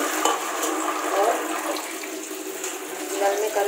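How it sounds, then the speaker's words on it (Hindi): Cauliflower being rinsed in cold water in a second vessel, a steady close splashing and sloshing of water running through the florets for several seconds, with no talk over it. "ठंडे पानी से इसको धो लूंगी"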